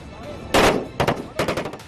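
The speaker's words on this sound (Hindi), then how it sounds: "मशीन गनों से दनादन फायरिंग हो रही है" Machine gun fire during army combat training, a loud burst followed by rapid clusters of sharp reports in quick succession.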